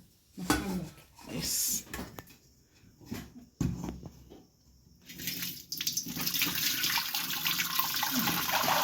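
A few clunks and knocks, then pineapple wine pours steadily into a container with a continuous splashing gurgle that grows fuller toward the end.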